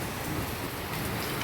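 Steady rain pours down outside near a veranda, a dense, even patter of drops that holds at a constant level throughout the short moment, with no voices.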